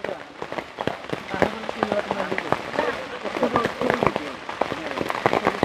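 Rain pours steadily over a busy rural village market in Bangladesh, a constant wet hiss under nearby voices of people talking and bargaining throughout.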